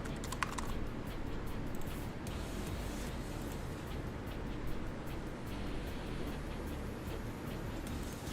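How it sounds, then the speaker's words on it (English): Typing on a computer keyboard, a quick scattered patter of soft key clicks over a steady background hiss, fairly faint and without talk. "I was typing it in the wrong box."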